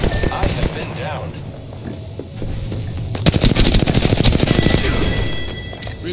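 Rapid automatic gunfire in the shooter game Apex Legends breaks out midway, a fast loud rattle of shots over game ambience, with a player talking around it.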